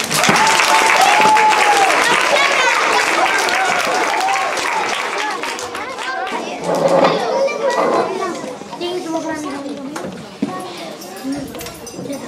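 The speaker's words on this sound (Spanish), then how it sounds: "Un fuerte aplauso para eles." An audience, children among them, applauds performers at a Saint John's Eve Christmas show, dense clapping that fades over several seconds while young voices chatter and call out.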